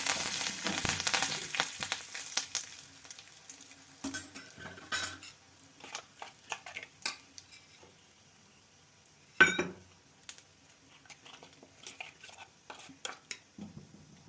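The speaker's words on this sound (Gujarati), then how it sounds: "ચપટી એક હિંગ નાખી દઈશું સાથે સાથે લીમડાના પાન" Asafoetida and curry leaves drop into hot oil with cumin for a Kathiyawadi dahi tikhari tempering: a hissing sizzle at the start fades under scattered spoon-and-pan clinks, with one sharp clank midway.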